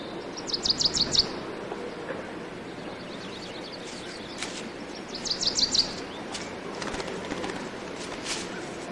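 Small birds chirp near a skull, with quick bright trills in short bursts, a couple of clusters and scattered single notes over a soft outdoor background.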